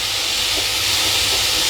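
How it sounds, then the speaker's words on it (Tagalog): Papaya sizzles in a little oil in a cooking pan for a clam, water spinach and papaya tinola, a loud, steady, continuous hiss with no break and no talk. "timplahan na natin habang ginigisa natin yung ating papaya"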